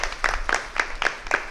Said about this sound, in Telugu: చప్పట్లు కొడదామా ప్రియులకు దేవుని బిడ్డలారా దేవునికి